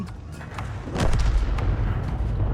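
A single heavy artillery boom from a video game gun firing its final round, a loud thud swelling up about a second in over a dense, rumbling battle background.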